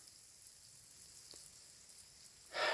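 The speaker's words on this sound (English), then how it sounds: "It started to rain." Rain falls on a mountain trail near a big pine tree, a faint, steady hiss of light drops with scattered soft taps, rising into a brief louder rush near the end.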